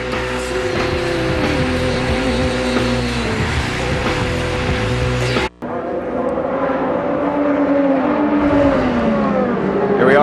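IndyCar race cars roar at the Indianapolis 500 in 2012, one loud continuous engine drone changing pitch as the cars run laps. After a brief dropout, another car's engine note sweeps up and down.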